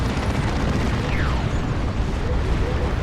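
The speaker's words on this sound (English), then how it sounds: "Tank buster barrage coming in. So much damage. Another rocket run." Rocket barrage explosions in Dawn of War 2's Imperial Guard versus Orks battle rumble as a dense, continuous wall of booms and bursts, loud and layered, with a faint whistling streak partway through.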